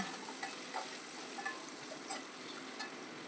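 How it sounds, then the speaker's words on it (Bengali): Moringa drumstick pods frying lightly in a pan make a faint, even sizzle, with a few small ticks and pops scattered through it. "এইভাবে আমি সজনেটাকে একটু হালকা মতো ভেজে নেব"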